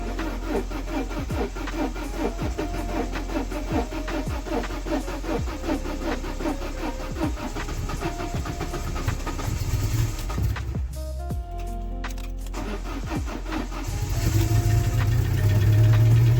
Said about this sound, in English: Bit of a blow in the exhaust, that's okay.